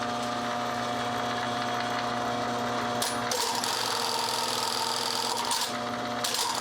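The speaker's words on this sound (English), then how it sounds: "This bar tacker does 3/4 inch bar tack, so I just put 2 of them next to each other" An industrial bar tacker sewing machine stitches a 1.5-inch strap with swivel hooks and a tri-glide for a U-zip duffle, a steady close mechanical whir with rattling clatter that shifts briefly partway through.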